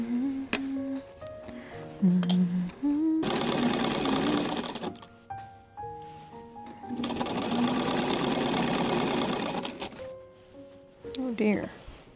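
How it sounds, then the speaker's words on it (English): Domestic sewing machine stitching bias tape onto a blouse neckline, running in two sustained bursts of steady needle chatter separated by pauses with light handling noise. "I'm just gonna sew the first pass of attaching this bias tape to the neckline."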